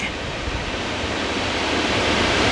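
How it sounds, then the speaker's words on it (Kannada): The Ghataprabha River rushes over the Fatakwadi dam barrier in flood, a loud, constant broadband roar of churning water that swells slightly toward the end, with no voices. "ಅದು ಪಾಠಕ್ವಾಡಿ ಡ್ಯಾಮ್ ಇದು ತಡೆಗೋಡೆ, ಅಲ್ಲಿಂದ ಮೇಲೆ ಹರಿದು ಉಕ್ಕಿ ಹರಿತಾ ಹೋಗ್ತಾ ಇದೆ ಘಟಪ್ರಭೆ ನದಿ"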